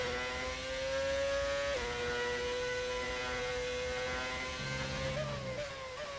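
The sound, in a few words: Formula 1 car engine in an F1 video game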